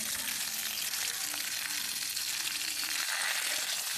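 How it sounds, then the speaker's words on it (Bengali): Mixed vegetables for a Bengali niramish shukto sizzle and fry in a pan while being stirred, a steady close hiss with scraping that drops off slightly near the end, with no talking. "এবার এর মধ্যে বাকি সবজিটা দিয়ে নেড়ে চেড়ে লবণ দিয়ে একটু সেদ্ধ করে"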